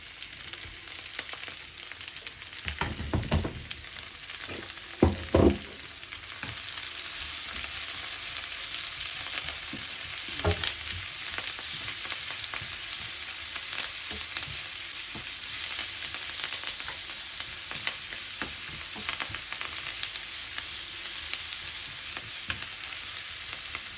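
Curry leaves, green chillies, crushed ginger and garlic frying in hot oil for a village-style spicy mutton curry, a steady loud sizzle throughout with a few sharper crackles and stirring knocks near the start.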